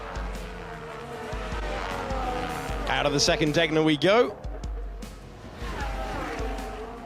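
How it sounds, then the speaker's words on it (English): A Formula 1 V6 turbocharged hybrid race car at the Japanese Grand Prix howls through the Degner curves, revs rising and dropping through gearshifts, loudest in the middle as it passes, with a commentator talking over it. "the sound of V6 turbocharged engine with the 50-50 split between the internal combustion engine and electrical power"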